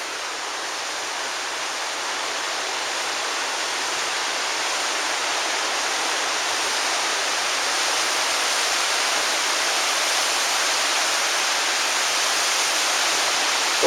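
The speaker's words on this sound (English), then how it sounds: "The water cascades all the way down, constantly dropping real quick" Water cascades steadily down a rocky drop on Kolob Mountain in Zion National Park, a constant broadband rushing roar that stays close and even and grows slightly louder throughout, with no voices.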